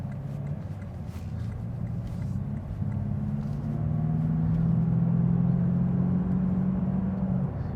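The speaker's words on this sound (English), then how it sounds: "It's got the sound of the engine is just, it's so unique sounding. It's got a really nice, it's like a low growl." A 2020 Lexus RC 350 engine accelerates with a steady, low growl that builds slightly in pitch and volume, heard from inside the car with no talking.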